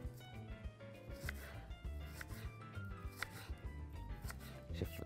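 Onion being chopped on a board while making Mexican-style chicken slices, a quiet run of irregular knife taps with a faint tonal background.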